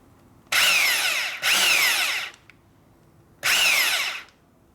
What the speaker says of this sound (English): So you want to try to drill vertical and everything.